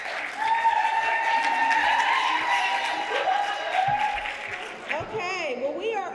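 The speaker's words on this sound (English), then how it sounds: "Will you join me in giving them all a great round of applause?" Audience at a women's wellness breakfast applauds in a full, steady round, with a voice talking over the clapping and a few whoops toward the end.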